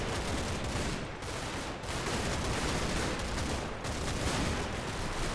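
Dense, continuous gunfire from the Combat Mission: Battle for Normandy game, a loud, unbroken rattle of shots with brief dips, with no voices.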